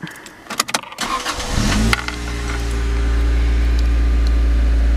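A car's Toyota 7A-FE engine with 163,000 miles, not fully cold, gives a few short clicks and rattles at first, then settles into a loud, steady idle hum with a smooth, constant drone.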